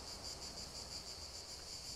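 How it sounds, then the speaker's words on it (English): Steady, even insect chirring, cricket-like, fills a quiet outdoor scene on a Greek island, a high continuous buzz with soft pulsing and no voices. "The quiet is absolute, punctuated only by the cry of seagulls and the buzzing of insects."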